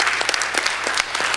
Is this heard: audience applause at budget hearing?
yes